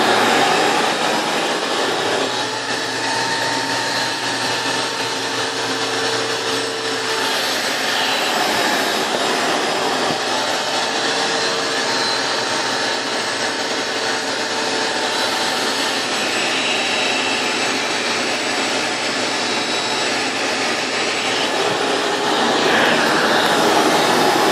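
A shop vac converted to water filtration runs at full power, a loud, unbroken whine and rushing roar that holds steady throughout with no talking.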